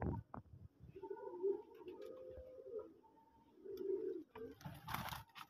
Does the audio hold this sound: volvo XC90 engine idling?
no